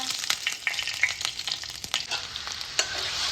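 Black cumin and green chillies dropped into hot oil sizzle and crackle in busy bursts, with occasional stirring scrapes, close and fairly quiet.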